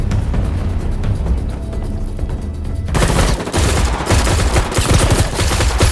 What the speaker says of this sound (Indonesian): mereka diberi tembakan oleh sekelompok pasukan yang datang dari kegelapan